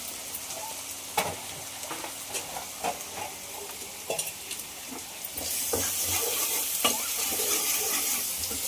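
Ginger garlic paste with turmeric fries in a pan, a steady sizzle broken by scattered spoon scrapes and clinks, then swelling into a louder, brighter hiss for the last few seconds.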